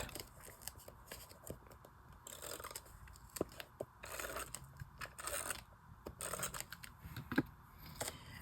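Tape pulled, torn and handled at close range, with rustling, crinkling and scraping that comes in irregular bursts across the whole stretch, soft overall with a few sharper crackles and no talking.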